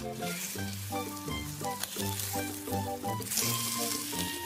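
Thin slices of meat, dusted in flour and dipped in egg, sizzle steadily in a pan beneath prominent background music.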